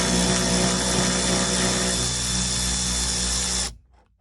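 An impact wrench whirring loudly and steadily while loosening a car's seatbelt bolts during a rear speaker install on a Subaru GC8, running close for over three seconds before cutting off abruptly.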